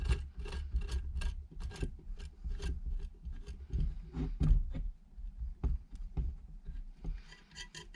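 Threaded rod being screwed in by hand during a BMW K100 water pump repair, a run of close scraping, rasping turns with uneven rhythm and small metallic clicks, alone without talk.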